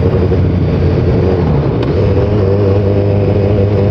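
Loud, close, steady drone of a 2015 BMW S1000R inline-four motorcycle engine under way, a continuous throaty hum with wind noise and no voices.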